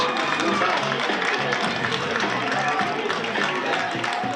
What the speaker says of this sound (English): And Wildcat fans down on this end on their feet now, cheering that defense.